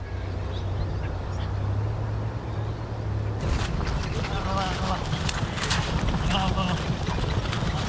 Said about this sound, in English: A lioness had managed to sneak around this herd of wildebeest.